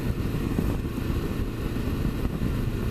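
Small motorcycle riding along nice country lanes, a steady low engine drone at cruising speed with wind rumble, continuous and fairly close, no talking.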